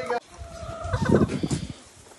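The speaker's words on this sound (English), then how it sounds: "Be nice to the chickens, Barker." Several chickens cluck and gobble in a burst of nearby fowl chatter, starting after a short sharp noise.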